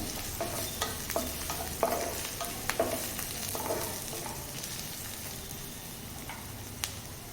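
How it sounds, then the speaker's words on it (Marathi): Curry leaves and ginger garlic paste fry in a pan while being stirred, giving a steady close sizzle with intermittent scraping and clinking stir strokes in the first half, with no voices. "यामध्ये आता आपण थोडासा कढीपत्ता टाकूया आणि आलं लसणाची पेस्ट टाकून घेऊया मिक्स करून घेऊया"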